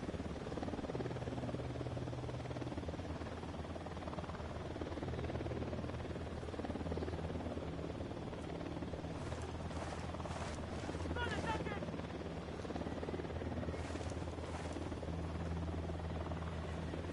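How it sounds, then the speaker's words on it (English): A helicopter drones steadily with a low rotor hum throughout in the video game Ghost Recon Wildlands, fairly distant and faint, with bursts of gunfire and talk from the game over it. "Helicopter inbound."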